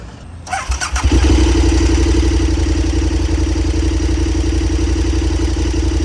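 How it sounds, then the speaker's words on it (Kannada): A KTM Super Adventure 1290 R motorcycle cranks and fires up, then settles into a loud, steady, close idle from the engine and exhaust. "ಎಕ್ಸಾಸ್ಟ್ ನೋಡ್ಕೊಟ್ಬಿಡಿ ಏನಾದರೂ ಡಿಫ್ರೆನ್ಸ್ ಮಾಡಿದಾರ ನೋಡೋಣ ಕೆ ಟಿ ಎಮ್ ಸೌಂಡ್ ಇದಕ್ಕೂ"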